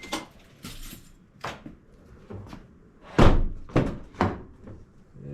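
Several door closing thunks from a Toyota FJ Cruiser after a door check replacement, a series of solid slams and softer latch knocks spread over a few seconds, close by with no talking.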